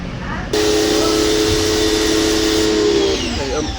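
A Bauer electric pressure washer fitted with the white nozzle sprays in a steady, loud hiss with a sustained whistling tone, starting abruptly after a short pause and running for several seconds before easing off.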